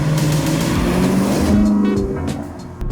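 A 2010 Maserati GranTurismo S drives along, its engine note loud and rising in pitch, then easing off toward the end, with faint tyre and road noise beneath.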